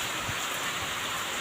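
Heavy rain falling in a village, a steady dense hiss of drops on surfaces with no breaks, fairly soft and even, no voices.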